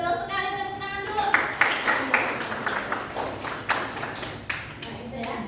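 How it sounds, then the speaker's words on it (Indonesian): Students clap in a classroom: a voice speaks briefly, then a run of irregular, close claps follows in short uneven bursts. "bagus, betul sekali, tepuk tangan dulu"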